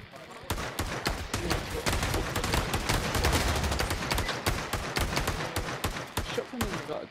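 Rapid gunfire in the VR shooter game Pavlov, dense sharp shots crackling continuously for several seconds with bursts close by, while voices talk over it.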